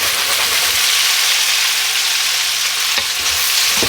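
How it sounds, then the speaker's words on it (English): Food sizzles loudly in a pan seasoned with crushed red pepper as the pan is shaken, a dense continuous frying hiss with a brief scraping shuffle near the end. "Give that pan a little shake."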